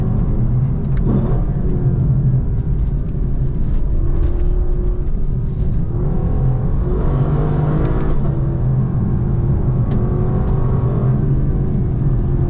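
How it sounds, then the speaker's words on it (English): A 2024 Lexus LC 500 sports car engine drones and revs steadily for the whole stretch, its pitch rising and dropping through gear changes with a low, continuous rumble and a harsh spit on upshifts. "It's even got this really harsh spit as you upshift to the gears."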